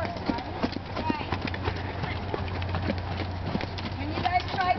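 Horse hooves clip-clop in a steady walking rhythm during a riding lesson, moderately close, while an instructor talks over them.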